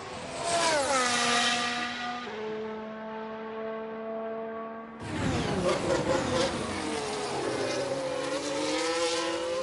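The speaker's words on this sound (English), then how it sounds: "First Mercedes, George Russell, defending champion, making his way out" A Mercedes Formula 1 car leaves the garage in the F1 Manager 23 video game, its engine whining in rising and stepping tones, then a sharp louder burst of revving as it pulls away, close and alone.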